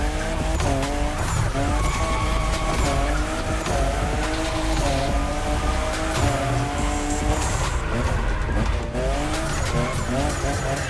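A Toyota Supra, the fifth-generation model, drifting in the racing game The Crew Motorfest: a loud, continuous engine roar with long wavering tire squeals and shifting revs throughout.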